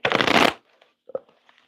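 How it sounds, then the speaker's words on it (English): A deck of oracle cards is shuffled in one quick, loud riffling burst, followed by a few soft taps and card handling sounds in a quiet room. "that'll work as a shuffle for me"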